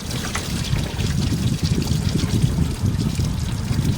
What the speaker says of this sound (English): There goes all the coolant.